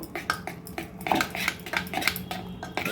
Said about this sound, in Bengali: এই হাতাটা দিয়েই ডালটা প্রেশার কুকারের মধ্যে একটু এইভাবে মাখিয়ে নেব